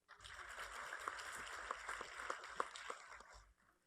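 Polite applause from an audience as CSU Academic Senate panelists are introduced, with many overlapping claps forming a soft, continuous patter that fades out at the end.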